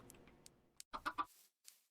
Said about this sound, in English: We have, what, 8 or 9 chickens?